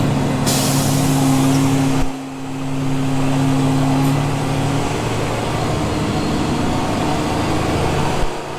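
A dump truck tailgates gravel onto a driveway with a loud, close, continuous engine drone and steady rumble, briefly dipping once before carrying on.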